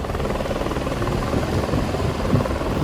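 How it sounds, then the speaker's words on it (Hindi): A rescue helicopter flies over flood waters, its steady, dense rotor and engine roar loud and continuous throughout, with no voices. "अब हेलीकॉप्टर के जरिए राहत बचाव में जुटे लोग बाढ़ में फंसे लोगों तक पहुंच रहे हैं"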